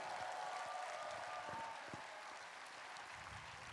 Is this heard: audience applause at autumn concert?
yes